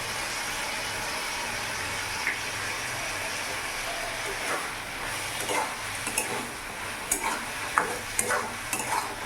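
Mushroom and pea masala is stirred and sautéed in a pan, a constant soft sizzle overlaid with scraping strokes and light clinks that grow more frequent toward the end.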